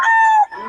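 A rooster at a busy Bocaue poultry market lets out a single loud, close crow that holds briefly and then trails off.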